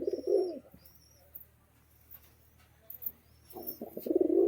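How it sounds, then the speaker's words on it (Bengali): Giribaj pigeons coo close by in two deep, throaty bursts, one at the start and one near the end. A quiet gap lies between them, with faint chirps in the background. "পায়রা গরম আছে কিনা আপনারা নিজেরাই দেখুন এই যে ডাক করছে দেখে নিন"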